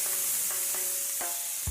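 Food fries with a bright, steady sizzle throughout, broken by a few short clinks of stirring and a dull thud at the end.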